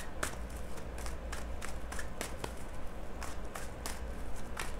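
A deck of tarot cards shuffled and drawn in soft, rapid riffling flutters and light flicks, close but faint, with no one talking.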